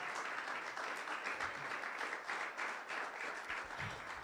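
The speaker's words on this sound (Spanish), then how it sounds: "Denle un aplauso al Señor." A church congregation gives a round of applause, fairly quiet and steady, with uneven clapping swells throughout and no speech over it.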